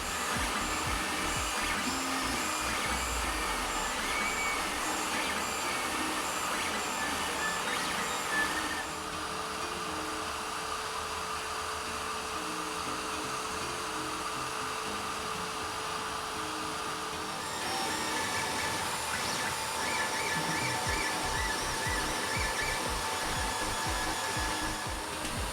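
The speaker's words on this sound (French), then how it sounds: "je vous mets un comparatif du avant-après sur chaque imprimante" A Creality Ender 3 3D printer runs with a steady whirring, hissing fan drone, its stepper motors adding shifting tones, and the sound changes character twice as different sections run.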